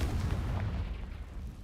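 Confringo blasting spell cast in the video game Hogwarts Legacy, a dense booming burst of fiery noise that fills the whole short moment, loud and close with no talk over it.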